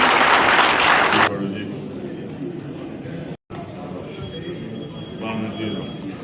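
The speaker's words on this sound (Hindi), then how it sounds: "हमारी टीम की जोरदार तालियां हो जाए" An audience at a film team gathering claps loudly for just over a second. The sound cuts off abruptly into quieter room tone with voices.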